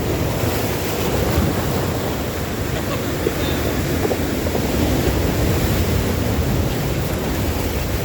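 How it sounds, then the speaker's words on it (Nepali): Ocean surf breaks along a coastline in a steady, broad wash of noise with wind buffeting the microphone, continuous and fairly loud. "कस्तो छाल हानेको होला क्या"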